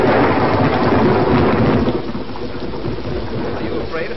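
Steady heavy rain pours down in a thunderstorm, a dense loud wash with low thunder rumbling beneath it, easing slightly partway through but continuing without pause.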